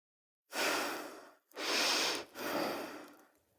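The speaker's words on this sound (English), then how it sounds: "Henry looked at his dear wife as her chest rose and fell, hypnotized by the rhythm of her breathing" A woman breathes slowly and audibly at close range, three long, rhythmic breaths in and out, each soft, airy and steady, with no other sound around them.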